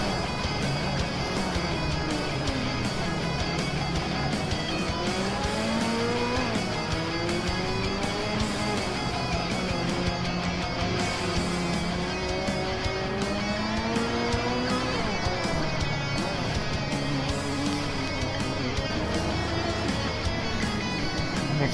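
Lamborghini Huracan Performante race cars, four-wheel drive, accelerate hard from a race start, a dense, loud field of engines rising and shifting through gears together with no talking.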